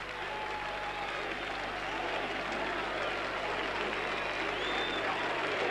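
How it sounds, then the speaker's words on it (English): Rugby league crowd at a Wigan versus Hull KR playoff match applauding after a hat-trick try, a sustained wash of clapping and crowd noise with faint calls mixed in; a commentator's voice runs faintly beneath. "Cry of easy from the crowd"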